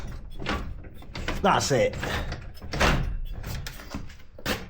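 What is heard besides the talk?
secret entrance door moving on new wheel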